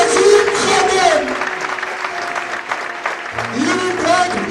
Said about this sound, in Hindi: हालेलुया, भरपूर तालियां।